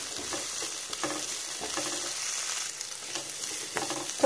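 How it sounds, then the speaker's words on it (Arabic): Sweet peppers sizzle in olive oil in a pan, a close, steady frying crackle broken by the repeated scrape and clatter of stirring, with no talk. "نضيف عليه كمان شوية زيت زيتون ونقلب فيه لحد ما يتغير لون الفلفل"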